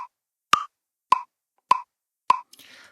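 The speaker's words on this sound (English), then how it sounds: "I talked about the metronome, so let's activate it." Loopy Pro app metronome clicking steadily, four sharp evenly spaced clicks about half a second apart, alone and clear, with a faint rustle at the end.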